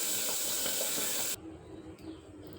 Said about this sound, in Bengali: ওদিকে মাছ ভাজা হচ্ছে